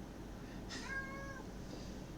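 A cat gives one clear, drawn-out meow at a door it is kept away from, fairly faint and indoors, followed by a softer trailing sound, with no talk.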